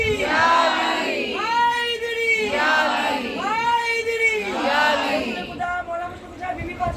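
A crowd at a religious majlis gathering chants slogans together in loud, drawn-out unison phrases, the voices rising and falling in steady waves for several seconds before thinning out near the end.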